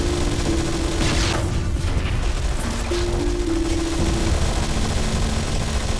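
Squad gunfire in the game Anomaly 2, a continuous dense rattle of weapon fire over a droning mechanical hum, loud and unbroken throughout.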